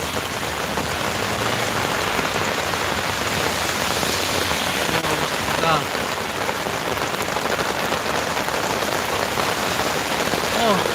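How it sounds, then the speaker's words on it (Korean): Heavy rain pours steadily onto surfaces outdoors as a dense, continuous hiss, with a voice faintly audible beneath it partway through. "여러분 빗소리 들리나요?"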